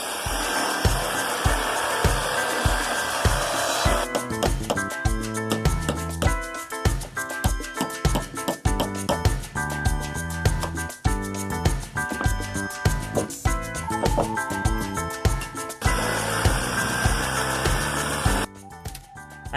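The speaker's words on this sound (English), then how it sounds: "I'm going to try to cut it down with a Sawzall just so it settles down just a little bit." A Sawzall reciprocating saw cuts down a wooden floor joist during house-addition framing, with a loud, close, buzzing rasp and a fast rhythmic stroke that runs steadily for about twelve seconds. No one speaks.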